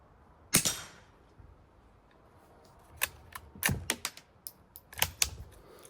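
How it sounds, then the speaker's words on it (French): Sharp metallic impacts ring out as rifle bullets strike a large metal gong at short range, one loud strike followed later by a quick irregular series of hits with brief ringing tails, no talking. "c'est le bruit d'un gros gong qui est derrière"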